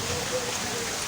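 Steady rain falls at an outdoor fish market, a dense, even hiss of drops on surfaces close by, loud and continuous for about a second with no clear voices.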